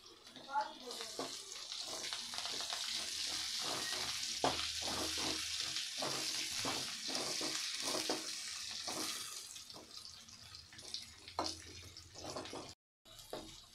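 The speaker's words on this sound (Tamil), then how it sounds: "பூண்டு நல்லா வதங்கத்துக்கு அப்புறம் நாம் அது கூட கருவேப்பிலை சேர்த்துக்கலாம்" Curry leaves and garlic sizzle in hot oil for a green chilli pickle, a steady bright frying hiss broken by frequent stirring clicks and scrapes. A brief gap near the end.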